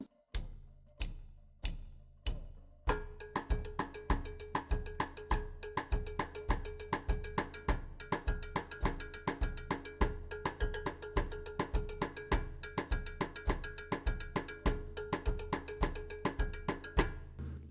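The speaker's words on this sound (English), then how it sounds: "I was just moving my right hand around the cowbell, starting to experiment with different sort of timbres within the cowbell sound" A cowbell is struck in a fast, steady Latin jazz mozambique pattern after a few slow opening hits, its metallic tone shifting in brightness as the hand moves around it, close and alone.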